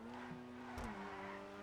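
A Grotti Itali RSX sports car in GTA hums along with a steady engine tone, then brakes with a brief tire squeal and thump as the pitch drops.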